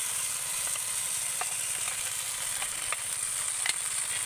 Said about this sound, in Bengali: মানে সজনা পাতার পেস্টটা এই ভাজা মশলার মধ্যে দিয়ে দিতে হবে